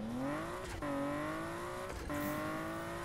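In the 2015 Need for Speed game, a four-wheel-drive car holds a steady engine drone with rising pitch, broken twice by quick gear-shift dips. The sound is close and moderately loud.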